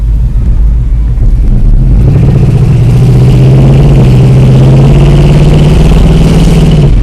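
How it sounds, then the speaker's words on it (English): A 1976 Monte Carlo V8 breathing through dual Flowmaster exhausts idles with a deep, loud burble, then climbs into a sustained rev as the throttle opens. The close, powerful drone rises steadily with no voices. "I'm gonna step on it right now, show you what it sounds like when you're actually giving it some gas."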